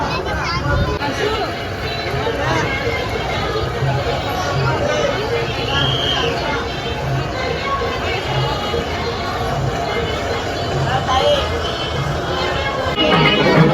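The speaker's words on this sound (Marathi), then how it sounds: "अचानक गर्दी वाढली" Dense crowd chatter fills a busy Ganpati darshan queue during the Ganpati festival, a steady, close hubbub of many overlapping voices with no single speaker standing out, swelling slightly toward the end.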